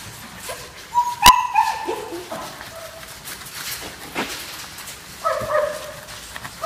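A German shepherd puppy being bathed gives a series of high, thin whimpers and yips with a few sharp barks, coming in bursts with short pauses between them, close by.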